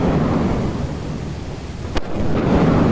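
Steady heavy rain with a low rumbling roar of thunder in Lethal Company, and a sharp crack near the two-second mark; no voices.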